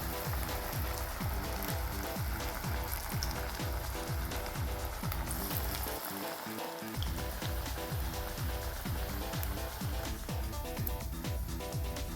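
Jackfruit vada frying in hot oil makes a continuous crackling sizzle. Dense pops and spatters run throughout, with a short lull partway through.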